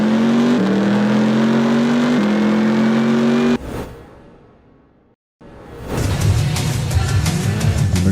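Racing car engines in the PSP racing game TOCA Race Driver 2, with a loud close engine whine climbing through gear shifts, then a brief fade to near silence before another car roars back in.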